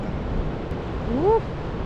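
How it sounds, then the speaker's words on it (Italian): Ocean waves break at a surf spot near a harbour entrance in Spain, a steady, broad wash of surf under wind, with a short tonal call briefly rising above it. "Guarda che onde quelle."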